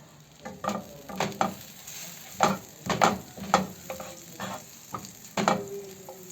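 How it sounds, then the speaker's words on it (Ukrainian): Butter melts and sizzles in a hot frying pan for lavash pizza, with repeated scraping and stirring strokes in an uneven rhythm, close by and moderately loud. "На гарячу сковорідку даємо трішечки масла, аби воно розтопилося масло"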